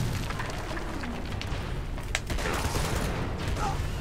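Bursts of gunfire and explosive impacts in Uncharted 2: Among Thieves on PS4, a dense, continuous battle din with a sharper hit midway, with a player talking over it.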